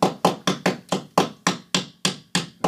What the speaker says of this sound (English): You have to hammer down this way.